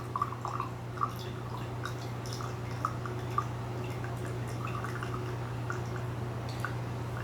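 Water dripping from a teapot spout while brewing Gyokuro green tea, a series of small, irregular close drips over a steady low hum.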